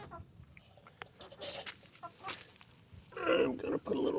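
Chickens cluck in short, scattered bursts near an opened coop door on a windy farmyard, growing louder and busier toward the end, with a person talking over them.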